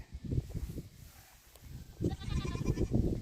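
A goat on a farm bleats nearby in wavering, nasal cries, one burst early and a longer run of bleats toward the end.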